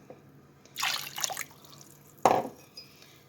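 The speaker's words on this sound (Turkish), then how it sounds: "2 su bardağı Su 2 su bardağı şeker ekleyelim" Water is poured into a pot for baklava syrup in two bursts, two cups of water going in with sugar, with splashing and trickling up close in an otherwise quiet kitchen.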